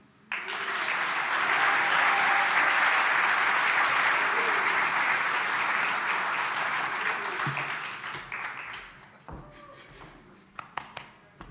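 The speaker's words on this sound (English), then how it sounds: "can you give a warm Elevate applause for Mr. Eddie Moreton?" Audience applause fills a room at a 15th anniversary party for a community organization in Orlando, swelling into a dense, sustained roar of clapping that fades out into a few scattered claps and thumps.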